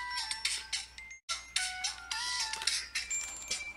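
A phone ringtone plays alone: a bright, repeating melodic ring with quick up-and-down notes, steady and fairly clear, pausing for an instant before the tune continues.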